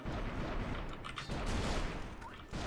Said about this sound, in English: So ice caves is just a lot of random explosions